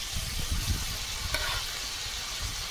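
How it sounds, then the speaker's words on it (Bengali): Fried shrimp and boiled bamboo shoots tossed in hot oil with five-spice (panch phoron), giving a steady close sizzle under rough, low stirring and scraping, with no talking. "ভেজে রাখা চিংড়ি মাছ দিয়ে দেবো"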